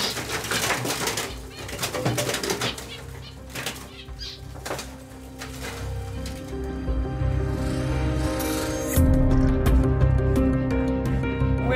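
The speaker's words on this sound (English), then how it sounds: "Where did you come up with the sounds for the birds?" Designed bird sound effects for the game Mosaic, with wing flaps and cooing pigeon-like calls set over a steady tonal music bed, continuous and fairly loud throughout.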